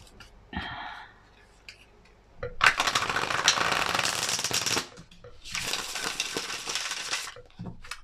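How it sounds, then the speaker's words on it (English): Tarot cards are shuffled by hand in two long riffling bursts of dense papery rustle, with a few small taps and clicks before and between them. "Let's give these a little shuffle."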